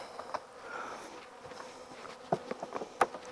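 Honeybees buzz around an opened hive during an early spring inspection, with faint steady humming broken by a few louder close buzzes as single bees pass near.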